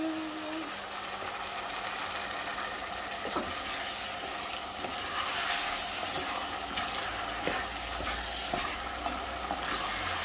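A callaloo and saltfish mixture frying in a pan, with a steady sizzle, occasional stirring scrapes and clinks, and a person talking now and then over the cooking.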